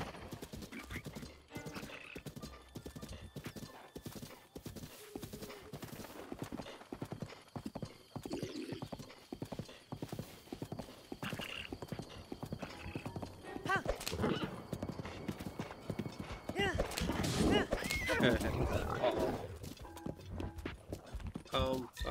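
Horse hooves clip-clop steadily in the open world of Zelda: Breath of the Wild, with a horse neighing and whinnying later on, mixed with game sounds while a person talks intermittently.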